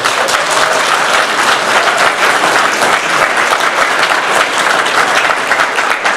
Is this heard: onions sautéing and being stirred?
no